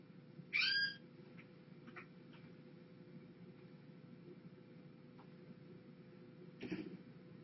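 A cat meows indoors, one faint short meow near the start and another brief sound near the end, both over a low steady background hum.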